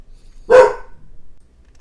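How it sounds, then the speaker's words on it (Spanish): A small indoor dog lets out one sharp, loud bark close by, with quiet before and after. "Perdón por mi perrito."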